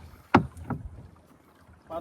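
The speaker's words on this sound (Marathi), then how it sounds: "बारक्या आला होडी घेऊन." A small wooden rowing boat moves on coastal water, with a sharp oar splash and knock, a softer second stroke, and a faint later splash, close and brief without voices.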